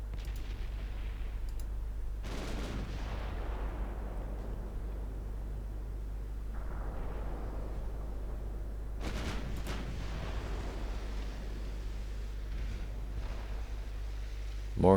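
Naval guns fire in the warship game Ultimate Admiral Dreadnoughts, heavy booming salvos with rumbling tails at a few spaced moments over a low, constant background drone.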